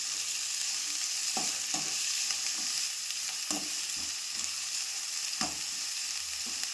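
Chickpeas and other ingredients fry in oil in a pan, a steady bright sizzle with a spoon stirring and scraping every second or so, close and fairly loud, with no one talking.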